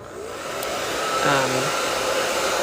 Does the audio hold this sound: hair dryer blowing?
yes